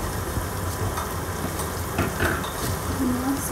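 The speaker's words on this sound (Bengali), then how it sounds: "তো আমরা হচ্ছে এখন বিরিয়ানির মশলাটা দিয়ে আরও কষাচ্ছি।" Marinated meat frying with biryani masala in a pan, a steady low sizzle running throughout with faint stirring scrapes, close and moderately loud, no talking.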